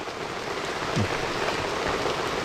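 Steady rain falls outdoors in a continuous, even hiss with no one speaking.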